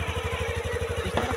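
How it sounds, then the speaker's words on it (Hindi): A motorcycle engine idles just after an electric self-start, with a quick, even putter that stays steady and fairly close through the short stretch. "गाड़ी न्यूट्रल हो गया, न्यूट्रल के बाद सेल्फ है, गाड़ी चालू हो गया है"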